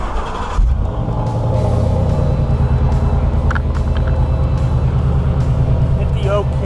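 A 2016 Ford Shelby GT500 engine fires up and settles into a loud, steady, deep rumbling idle close by, with people talking over it.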